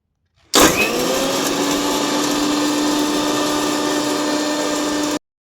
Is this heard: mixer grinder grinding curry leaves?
yes